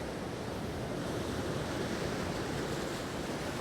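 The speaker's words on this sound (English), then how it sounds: "just rough waves, white water everywhere" Rough Atlantic waves breaking on shore with white water everywhere, a steady loud roar of surf and wind, dense and unbroken throughout.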